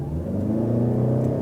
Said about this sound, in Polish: Zobaczcie, że wchodzi na 6000 obrotów i tak już zostaje